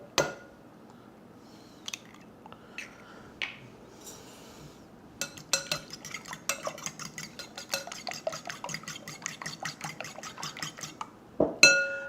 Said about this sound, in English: Beat us up a couple of Reuben's Farm Fresh eggs